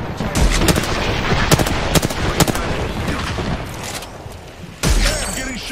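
Rapid gunfire in the game Apex Legends crackles in dense bursts, with sharp individual shots and a heavier impact near the end, close and loud, with brief voice lines underneath.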